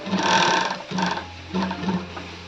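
A sewing machine stitches a readymade sleeveless kurti in several short runs, a close whirring hum that pauses briefly between bursts.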